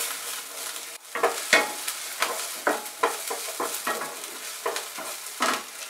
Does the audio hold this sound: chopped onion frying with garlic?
yes